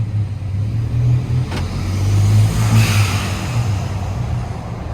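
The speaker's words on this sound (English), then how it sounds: "that AFE filter definitely helps let you hear the turbo spool up" A 2013 Ford F-150 with an AFE air filter and vent-to-atmosphere blow-off valve produces a steady low engine drone. The truck revs and its turbo spools with a rising hiss near the middle, heard close with no talk.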